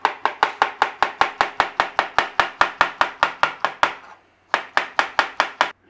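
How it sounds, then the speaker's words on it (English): A knife thinly slicing bananas on a cutting board for a Manchester tart, a fast, even run of crisp close taps, about twenty in a row, then a brief pause before a second quicker series. "We have to thinly slice some bananas, and we're going to put them on the bottom of there."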